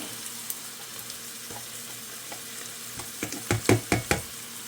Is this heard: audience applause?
no